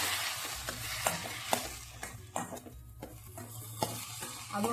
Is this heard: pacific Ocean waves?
no